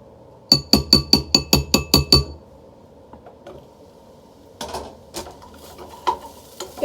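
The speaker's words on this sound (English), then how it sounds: "I'm gonna stir the rice first." Rice being stirred in a pan during a meal-kit cook: about eight quick rhythmic scraping clinks of utensil on pan, then a pause and a few scattered stirs and taps over a quiet background.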